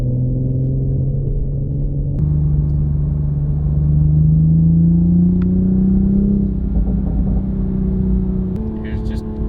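A Toyota Supra engine in a racing video game revs under full acceleration, a loud, steady droning roar that climbs gradually in pitch and then shifts up through gears, close and continuous throughout.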